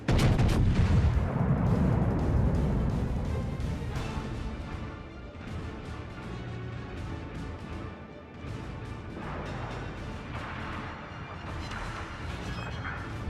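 Battleship guns boom in World of Warships gameplay, a heavy opening salvo followed by continuous rumbling blasts and crashing impacts that fill the whole stretch at loud, steady level.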